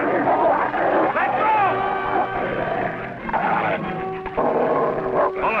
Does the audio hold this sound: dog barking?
yes